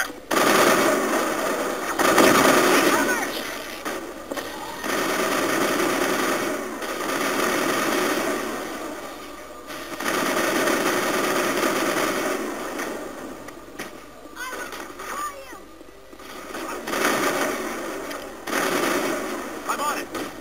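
Sustained automatic gunfire in a Mass Effect firefight at Noveria's Peak 15, dense bursts running steadily through the stretch with brief lulls, loud and close under occasional game voices.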